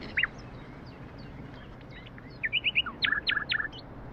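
Cardinal chirping in short bright tweets, one early call and then a quick cluster of repeated chirps toward the end, fairly close over a soft, steady outdoor background.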